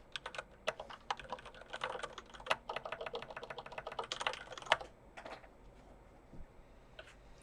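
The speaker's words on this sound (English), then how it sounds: "I switched to a keyboard with a completely different layout" Rapid, continuous typing on a mechanical keyboard with brown switches, fitted with a completely different layout, the keys clattering in dense close bursts before slowing to a few scattered taps.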